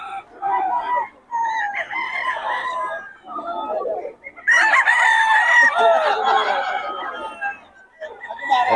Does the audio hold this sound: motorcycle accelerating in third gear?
no